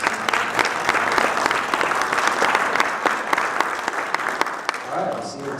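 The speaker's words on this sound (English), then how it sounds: "Round of applause for all those folks." Sustained applause from a church audience at a tour event, dense clapping filling the room for several seconds and thinning slightly at the end.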